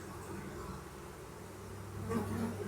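A steady, dense buzz of honey bees hums throughout during a honey harvest at an open hive box, swelling slightly louder near the end, droning close by.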